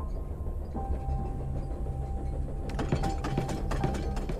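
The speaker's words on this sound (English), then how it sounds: "The train's picking up speed." A train in the video game The Charnel House Trilogy gathers speed: a steady low rumble with a faint whine, then sharper rhythmic clacks of the wheels that grow denser toward the end, with no voices.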